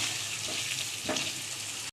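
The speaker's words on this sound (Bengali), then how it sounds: "আলুগুলো দিয়ে দেবো, আলুগুলো একটু ভালো করে একটু কষিয়ে নেব।" Potatoes sauté in hot oil with salt in a pan, a continuous close sizzle with brief stirring scrapes, cutting off abruptly at the end.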